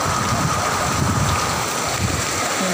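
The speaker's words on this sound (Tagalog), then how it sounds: "ang lakas po talaga ng ulan" Steady, dense hiss of heavy typhoon rain pouring down continuously, close and loud, with no voices.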